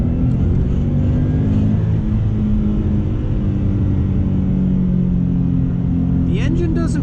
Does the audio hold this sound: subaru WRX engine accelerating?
yes